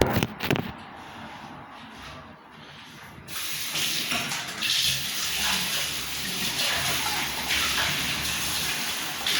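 Water or cola pours steadily into a glass at a home table, a continuous splashing hiss that begins abruptly a few seconds in and carries on at moderate loudness without talk.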